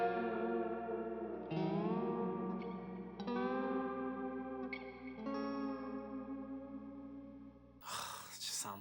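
Electric guitar with a humbucker pickup, a cheap Craigslist instrument, rings out sustained chords through chorus, echo and mild distortion, each chord shifting into the next, ending in a brief burst of noisy strumming.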